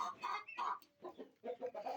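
A rooster clucks in quick, choppy bursts, close and fairly loud, with short pauses between the calls.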